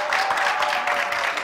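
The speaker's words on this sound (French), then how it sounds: "On applaudit très fort." Studio audience on a festive TV variety show applauding guests, a brief soft wash of clapping heard at a distance without talk.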